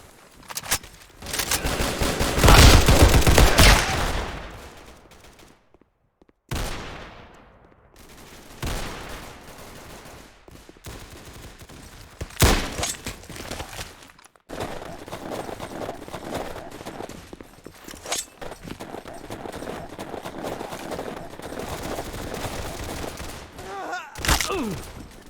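Rifle fire in a video game crackles in bursts of rapid shots with short pauses between them. Some bursts are close and loud, others are thinner, and voices talk over parts of the fighting.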